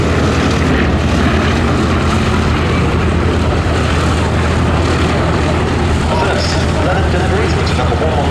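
A Bristol Blenheim light bomber flies at the Duxford Battle of Britain Airshow 2019, its engines making a loud, continuous droning roar that holds steady from start to finish.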